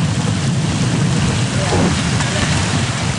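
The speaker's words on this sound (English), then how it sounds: "It's got changed and now it's raining." Steady, heavy rain hisses loudly and continuously, a dense wash of drops close by with no breaks.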